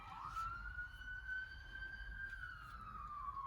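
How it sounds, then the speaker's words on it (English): A wailing emergency siren rises and sweeps steadily, loud and fairly close, over a low rumbling background. "Excuse me, the sirens."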